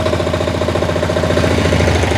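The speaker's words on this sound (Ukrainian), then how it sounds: "тепер двигун завівся, все добре" A Motor Sich MB-12DE walk-behind tractor with a 12-horsepower diesel engine runs steadily up close, giving a loud, continuous rhythmic chugging throb with fast regular knocking pulses and no speech.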